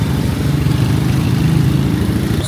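A new-shape 125cc motorcycle engine idles close by at a street bike market, a steady low putter with an even rhythm that stays loud throughout.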